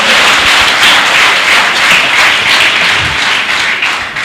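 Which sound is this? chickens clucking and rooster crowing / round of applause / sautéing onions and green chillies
round of applause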